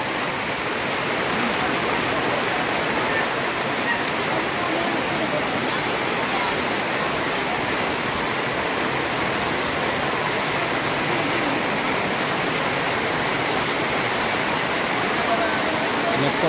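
Heavy rain pours steadily onto the weekly market at Yavat, where stalls of okra, cucumbers and tomatoes are getting soaked. It makes a dense, unbroken hiss that stays loud and even throughout.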